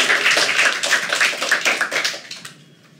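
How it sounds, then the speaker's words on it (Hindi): An audience at a stand-up comedy show claps in a burst of applause that is strong at first and then thins and fades away over a few seconds. "Clap if you understand English."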